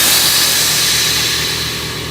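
A Viper air suspension dumps air again, giving a continuous broadband hiss that runs loud and steady through the whole clip and fades slightly toward the end, with nothing else over it.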